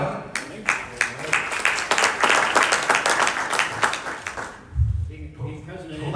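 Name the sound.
applause for IndyCar President Doug Bowles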